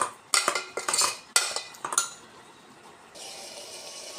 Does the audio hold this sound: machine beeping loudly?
no